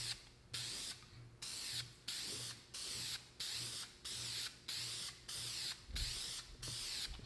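An aerosol can sprays paint onto a marine boat engine in regular hissing bursts, about a dozen short sprays in a steady rhythm, close and alone.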